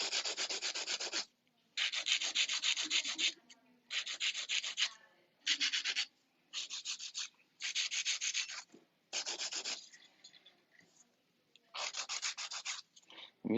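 Fingernails being shaped with a coarse 100-grit nail file give close, harsh sanding strokes in steady bursts with short pauses between them, with no voices.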